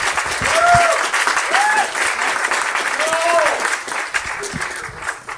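An audience at a democratic socialism panel at the People's Summit applauds steadily, a moderate wash of clapping under a voice speaking.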